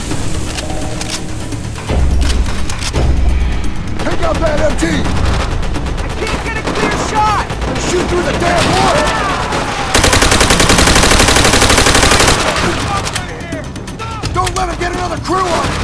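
Machine gun fire in Call of Duty: World at War, a World War II battle game: dense, loud bursts of rapid gunfire and booms with a heavy sustained barrage midway, under battle music and shouted voices.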